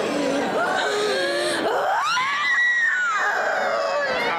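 Several people scream and wail during a deliverance rite at a Pentecostal church in Junín, Peru, overlapping shrill, sustained cries with rising and falling pitch, loud and close, crowd noise beneath.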